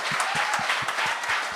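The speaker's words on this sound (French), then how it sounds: "J'aimerais ça qu'on l'applaudisse quand même." Audience applause after an opening comedy set on a stand-up competition show: dense, steady clapping that fills the whole moment, close and fairly loud, with no talking.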